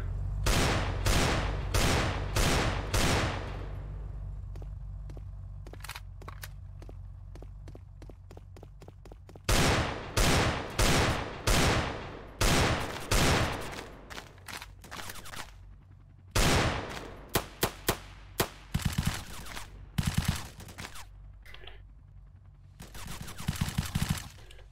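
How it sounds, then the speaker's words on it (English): Rapid bursts of automatic gunfire ring out in the Roblox game BlackHawk Rescue Mission, long loud volleys broken by short pauses and scattered single shots, sustained over the whole stretch. "Can you stop shooting?"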